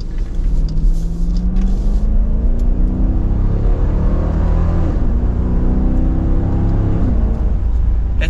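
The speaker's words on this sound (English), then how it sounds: "A little bit more throttle response with sport mode, of course, but it doesn't seem to change the exhaust note" A 2023 Dodge Durango R/T with the Hemi V8, accelerating hard in sport mode: a steady, loud engine and exhaust roar that climbs in pitch through the gears, with no one talking.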